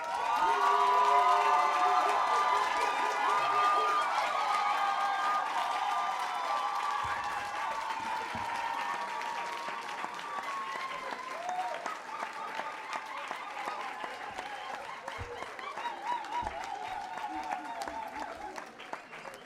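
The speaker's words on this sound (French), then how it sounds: "Maintenant, ensemble, applaudissons chaleureusement nos diplômés." An audience at a Collège Boréal graduation ceremony applauds and cheers the graduates. Loud, sustained clapping with scattered shouts and whoops slowly tapers over nearly twenty seconds, and music-like tones sound faintly underneath.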